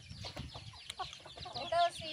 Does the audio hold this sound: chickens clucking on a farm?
yes